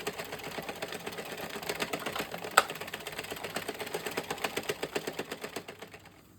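An Addi/Sentro knitting machine works rows of a beanie, making a steady, rapid mechanical clacking with a regular rhythm. One sharper click stands out partway through, and the clatter slows and fades out near the end.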